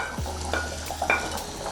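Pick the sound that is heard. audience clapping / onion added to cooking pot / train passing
onion added to cooking pot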